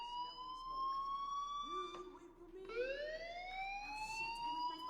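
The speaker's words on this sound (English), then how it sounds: "Hey, do you hear that fire alarm?" A fire alarm sounds in the video game Life is Strange. It gives repeated rising, whooping electronic tones that overlap one another at a steady, moderate level, with no voices.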